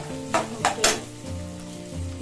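Vegetables sautéing on high heat in a pan, a steady loud sizzle with a few scraping stir strokes near the start, close and without talk.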